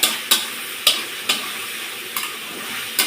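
Taro stolons stirred and fried in a pan: a sizzling bed under six or so sharp, evenly spaced scrapes and knocks of a utensil against the pan, close and fairly loud.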